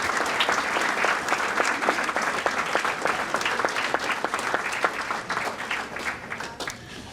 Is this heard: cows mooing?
no